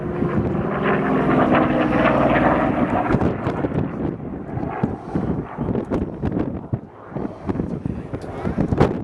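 A WWII Corsair fighter plane performing aerobatics at an airshow, its piston engine droning and fluctuating through climbs and loops, with an announcer talking over it and wind buffeting the microphone.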